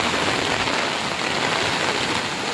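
Heavy typhoon rain pours down in Rizal during a Signal 4 storm, a loud, dense, unbroken hiss of rain on surfaces with no talking.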